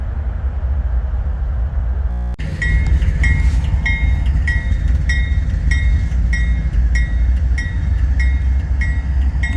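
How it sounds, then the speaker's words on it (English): A long freight train hauled by GE diesel locomotives rolls steadily past close by, a continuous loud rumble of rail cars with rhythmic clanks and squeals repeating throughout after an abrupt start. "It's quite a long train."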